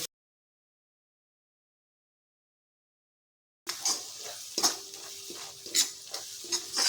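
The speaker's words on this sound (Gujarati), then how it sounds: "ત્યારબાદ આપણે બધું જ સરસ મિક્સ કરી લઈશું." After several seconds of silence, a spoon scrapes and stirs aubergine with red chilli, turmeric and coriander-cumin powder in a hot pan for Kathiyawadi dhaba-style ringan no olo, giving soft sizzling and a few clinking strokes.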